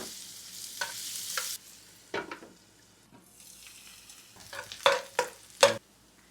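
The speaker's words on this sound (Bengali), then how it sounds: "পরিমাণ মতো তেল, পৌনে 1 কাপের মতো পেঁয়াজ কুচি ভেজে নরম করে নেব।" Chopped onions frying in oil in a pan, a soft low sizzle broken by several sharp stirring scrapes and clatters that grow louder and more frequent toward the end; no talking.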